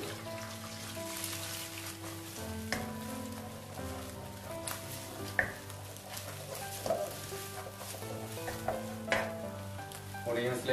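Garlic frying in oil in a wok for restaurant-style Schezwan noodles, a continuous soft sizzle with scattered spoon clinks and scrapes, fairly quiet and close.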